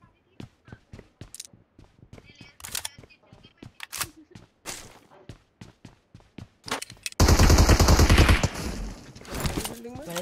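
Gunfire in the PUBG Mobile video game: sparse single shots and short bursts crack out through the first seven seconds, then a loud sustained volley of automatic fire takes over at the end.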